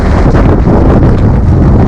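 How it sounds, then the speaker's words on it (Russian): Strong wind buffeting the microphone on a seashore near a river mouth, a loud continuous roaring rumble with steady gusting and no voices. "Ветер сильный"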